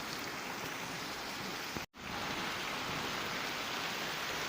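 Heavy rain pours down on a village as a continuous, dense hiss, briefly cutting out for a moment before resuming just as steadily.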